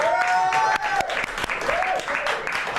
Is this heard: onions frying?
no